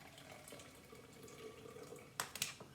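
Almond milk poured slowly through cheesecloth gives a soft, faint trickle and drip against low background noise, with a few brighter splashes near the end and no talk.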